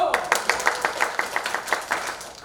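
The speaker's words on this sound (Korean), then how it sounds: "박수!" Sharp, evenly spaced claps ring out in a rhythmic unison beat as a congregation at a Sunday church service applauds a quiz prize, the crisp strokes fairly close and bright.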